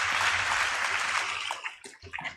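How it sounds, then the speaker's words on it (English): An audience at a school annual report event applauds loudly for a couple of seconds, then the clapping thins into a few scattered claps. "Please give them a huge round of applause."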